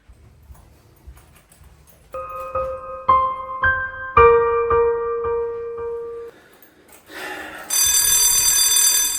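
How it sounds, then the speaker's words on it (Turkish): An electronic bell tone rings in repeated steady bursts, then a brighter, shriller ringing joins near the end; loud and close, no talking. "Zil çaldı zaten."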